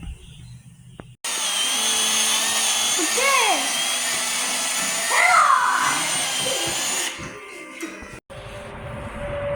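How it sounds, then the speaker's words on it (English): A power drill whines steadily at close range into a metal steering gearbox, drilling ports, with a voice speaking over it partway through, then the motor stops. "we're going to drill and tap 2 ports"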